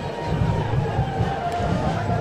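A large crowd lines both sides of the street at a Ganesh Visarjan procession in Mumbai, making a dense, steady murmur with a low rhythmic rumble beneath it.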